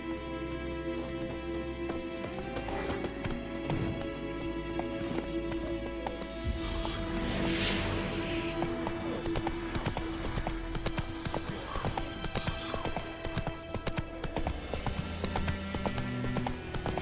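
Roach the horse gallops in The Witcher 3, steady rapid hoofbeats clip-clopping throughout with a brief whinny partway in, over a background game score, no talking.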